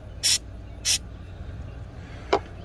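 Three quick hissing bursts of aerosol spray on a camshaft position sensor connector of an Audi 3.2 FSI engine, the first two loud and about half a second apart, then a shorter, fainter puff after a pause.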